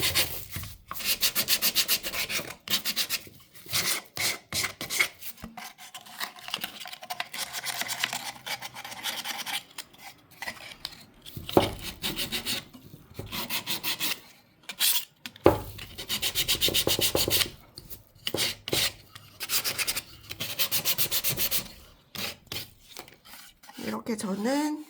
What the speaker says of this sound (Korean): 모서리 이런 데만 살짝 거슬리지 않을 정도로 이렇게 사포질 해주시면 돼요